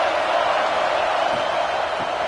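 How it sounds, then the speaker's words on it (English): A stadium crowd in a college football video game, Wake Forest versus Wisconsin, roars as a steady broad wash of cheering and noise, fairly even in level, with no clear voices standing out. "This crowd bringing the energy and noise early."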